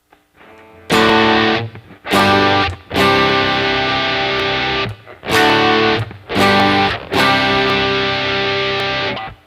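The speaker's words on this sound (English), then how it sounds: "All of a sudden you get all that distortion, all that wonderful distortion, but over here this super clean tone gives you all the distinction" Electric guitar through heavy distortion blended with a clean tone, played in loud sustained chords separated by short pauses, thick and ringing with no talking over it.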